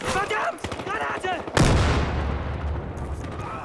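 A grenade explosion in Battlefield Hardline on the Der Block map bursts loudly partway through, followed by a rumbling, crackling tail; someone speaks in German just before the blast.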